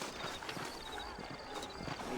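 Horse hooves clip-clop steadily in the Red Dead Redemption video game as riders set off on a trail, a continuous mid-level rhythm mixed with ambient game sound and some voices.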